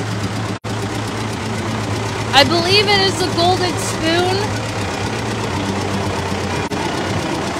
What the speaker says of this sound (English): This tractor, very loud. You might not be able to hear me over it.